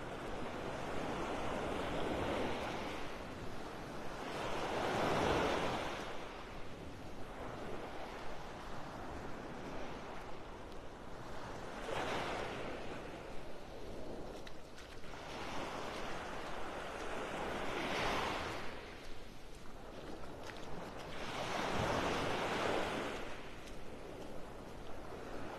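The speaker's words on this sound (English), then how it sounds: "Soothing sounds of those waves." Ocean waves rolling onto a beach in North Naples, Florida, a steady soft roar that swells and recedes in slow regular surges, with wind in the background and no voices.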